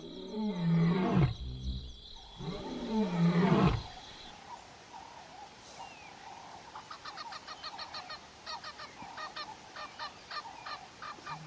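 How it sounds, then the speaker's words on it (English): A lion roars in the distance on a night safari at Tintswalu, a few deep, loud grunting calls over the first four seconds, then fading to quiet bush ambience with insect chirps. "We've just heard another lion roaring in the distance."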